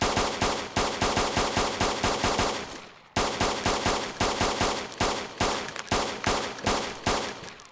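Rapid automatic gunfire in the video game DayZ, two long evenly paced bursts split by a brief pause, each shot a sharp crack with a decaying tail, loud and without talk.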